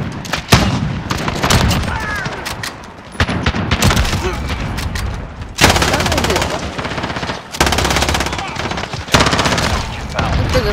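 Dense, loud gunfire in the Modern Warfare video game, rapid automatic bursts and sharp shots coming in several long volleys with brief gaps between them, close up, with some voice chatter mixed in.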